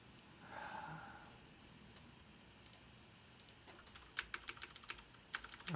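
Computer keyboard typing during a live coding session: faint, quiet room tone at first, then scattered quick key clicks in short bursts toward the end.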